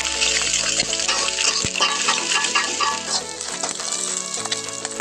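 Spice paste fried in hot oil for Sundanese nasi goreng kencur, right after crisp scrambled egg: a steady, close sizzle with stirring scrapes running through the whole stretch, no talking.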